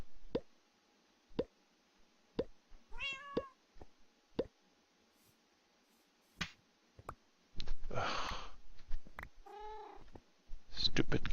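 A Minecraft cat in the TPPI modpack meows twice among sparse clicks and popping game sounds. The meows are short and moderately loud, and a burst of louder noise comes later.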